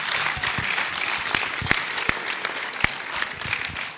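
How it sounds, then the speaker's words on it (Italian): A crowd at an inauguration ceremony applauds the mayor of Melito Porto Salvo, steady dense clapping throughout with a few sharper individual claps standing out. "con un applauso il sindaco di Melito Porto Salvo, Giuseppe Meduri."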